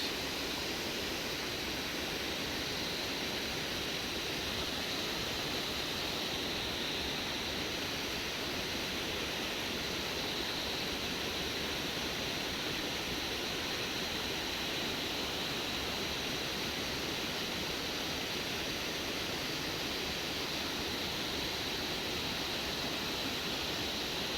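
Waterfalls on the Valley of Flowers trek near Ghangaria in the Himalayan mountains pour in a steady, unbroken rush of falling water that stays even and constant throughout, with no voices.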